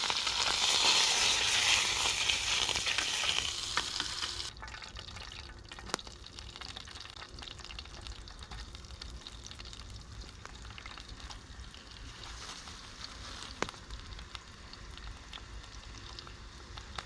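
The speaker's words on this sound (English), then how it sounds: "in goes the chicken. We'll start frying that bad boy." Chicken frying in oil and butter in a pan at a solo wild camp in Switzerland, a strong sizzle at first that settles into a steady low crackle, with an occasional click or tap.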